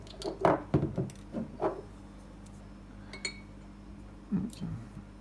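A bottle of flaxseed oil being handled, with a few close glassy clinks and knocks early on, then quieter taps and a soft bump near the end over a faint background hum.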